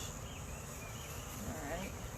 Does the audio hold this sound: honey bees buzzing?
yes